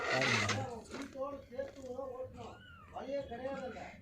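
Kitten meowing repeatedly in a series of rising, drawn-out mews close by, at a home milk feeding, with a person talking over the cries.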